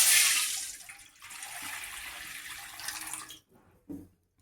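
Water pours in a strong, hissing stream into a pan while making rava kesari for about three seconds, then stops, followed by a couple of small clinks.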